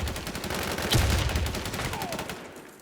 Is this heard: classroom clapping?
no